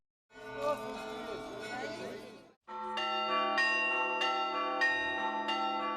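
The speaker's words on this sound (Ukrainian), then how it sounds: "Пасхальний дзвін несе світові радісну звістку." Easter bells ring out from the Archangel Michael church in Rybnytsia, Transnistria. A loud, washy stretch of clanging gives way after a brief break to steady, resonant bell strikes, roughly one per second, sustained and ringing.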